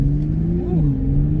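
A 2022 Toyota Supra 3.0 engine, close and steady, droning at moderate revs with a brief rise and dip in pitch under light quarter throttle.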